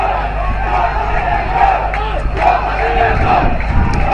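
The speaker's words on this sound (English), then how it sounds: "The crowd getting behind their team." A rugby crowd at a President's Trophy school final between Trinity and Isipathana roars and chants steadily for its team, a loud, dense wall of voices with rising surges and a commentator's voice mixed in.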